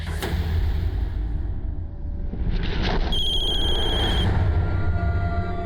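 A loud, noisy background gives way to an electronic ring tone, a steady high trill lasting about a second before it fades into the din.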